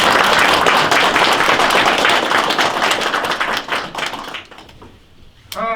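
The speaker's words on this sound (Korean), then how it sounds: "한 번 더 박수 부탁드리겠습니다." An audience applauds at a retired police officers' association event, with dense, loud clapping that gradually thins out and fades into near-silence before a sudden burst of sound at the end.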